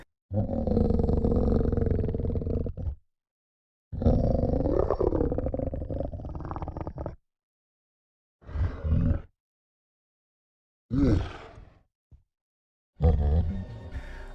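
Monstrous roars and guttural growls of video game Flood creature sound effects in several bursts, long rumbling cries first, then shorter snarling grunts separated by silence.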